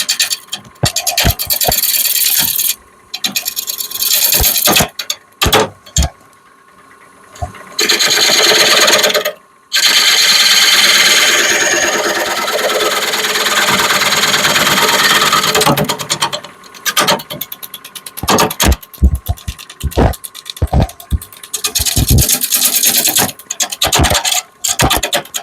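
Epoxy piece being filed down flat by hand, steady rasping strokes in bursts with brief pauses, close and fairly loud throughout.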